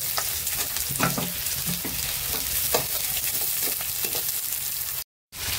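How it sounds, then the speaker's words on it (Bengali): Steady crackling sizzle of salted onions frying in hot spiced oil for chicken curry, with occasional sharper pops and stirring scrapes, close up; a brief silent gap near the end. "এবার পেঁয়াজটা লাল লাল করে ভাজা করবো।"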